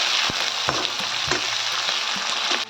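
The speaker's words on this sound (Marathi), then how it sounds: "आपण चिरलेला एक कांदा व मिरची त्याला छान लाल होईल परतून देऊया" Chopped onion and green chilli frying in oil with mustard seeds and cumin for a green-wheat khichdi, a steady close sizzle broken by regular spatula scrapes and stirs, no talking.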